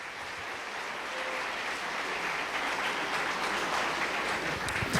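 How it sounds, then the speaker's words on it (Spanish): A public audience at a municipal accountability hearing in Donmatías applauds the town's young footballers, runners-up in Antioquia; steady, moderately distant clapping that builds slightly and carries on alone. "Nuestros jóvenes se merecen un aplauso"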